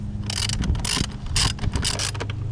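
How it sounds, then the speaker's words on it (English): A ratchet on an extension tightens a starter bolt on a Toyota Camry, giving rapid clicking bursts mixed with metallic clatter, close by and fairly loud, with no speech. "get the ratchet with an extension and tighten up"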